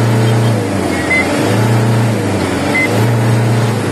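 A car engine revs in repeated short blips as the accelerator is pressed and released, the pitch rising and falling about three times over a steady idle, close and loud.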